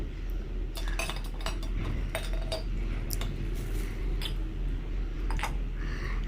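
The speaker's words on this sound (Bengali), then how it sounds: "এখন খেজুরগুলাও সব ঢেলে নিচ্ছি" Dates being poured into a container in a home kitchen, a brief run of light clinks and knocks against a low steady background hum, no talking.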